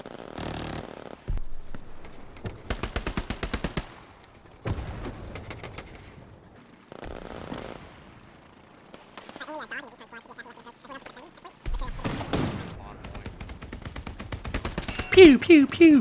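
Rifle fire in the WWII shooter Hell Let Loose comes in sharp, loud bursts of rapid shots separated by pauses, close up, with someone talking between and over some of the volleys.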